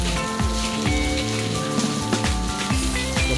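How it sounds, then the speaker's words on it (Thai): Heavy rain falls nonstop in Chiang Rai, Thailand, a loud, continuous patter drumming on surfaces nearby, with faint tonal background sounds woven underneath and no one speaking. "ที่เชียงรายฝนตกนะคะ ตกไม่หยุดนะ"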